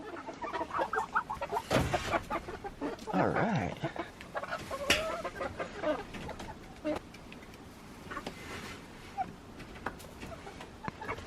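Young pullets clucking on the roosting bars of a backyard coop holding Araucanas, Barred Rocks and others, soft irregular clucks and chirps nearby with occasional louder squawks, under a man's quiet speech.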